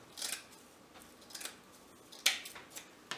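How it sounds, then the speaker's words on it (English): A few quiet, crisp snips of scissors cutting coconut grass for a basket-style drink wreath, irregularly spaced over about three seconds, with no voices. "this is the coconut grass that you put in like baskets. So I'm just going to go ahead and cut this"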